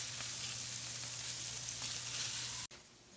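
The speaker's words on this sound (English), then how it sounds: "Got them on the grill." Marinated lamb chops sizzle on a grill in a steady, close hiss that cuts off abruptly near the end.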